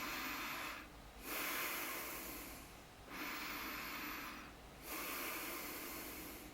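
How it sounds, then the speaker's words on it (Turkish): Slow, deep breaths drawn in and out through the nose during a guided breathing exercise, a soft steady hiss repeating in a few long cycles with brief dips between them, close and quiet with no talking. "derin durmadan nefes almanı istiyorum. Burnundan."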